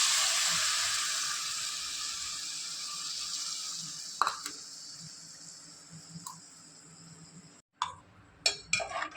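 Tamarind water hits a hot pan with a loud sizzling hiss that slowly fades over several seconds, followed by a few light clinks and scrapes.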